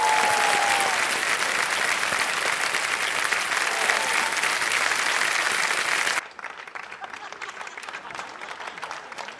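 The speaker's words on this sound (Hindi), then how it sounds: "तालियां बजती रहे एक बार इनके लिए जोर से।" A studio audience on the quiz show Kaun Banega Crorepati applauds loudly and steadily for a contestant, then the clapping drops abruptly to a thinner, quieter patter near the end.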